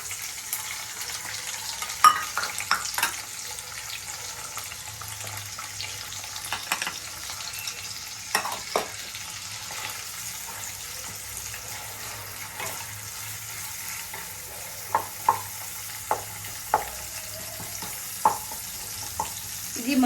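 Onions and green chillies fry gently in a pan of browned masala, a low soft sizzle under intermittent sharp clinks and scrapes of a spoon being stirred, with quiet pauses between.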